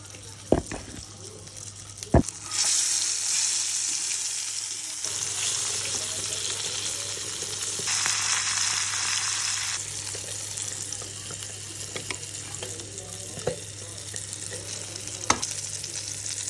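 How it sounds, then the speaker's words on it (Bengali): Dried chili powder frying in oil in a frying pan, a steady close crackling sizzle with sharp clicks and taps of utensils, no talking. "মরিচ তো ভাজা হয়ে গেছে"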